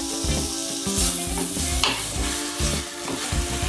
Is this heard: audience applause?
no